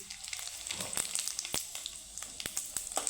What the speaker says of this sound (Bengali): তো গোটা জিরেটা ভাজা হয়ে গেছে